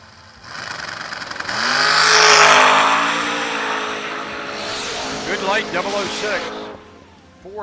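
A dragster race car makes a time run at the King of the Shore drag racing event. Its engine roars up loudly and rises in pitch, then fades, and voices follow near the end.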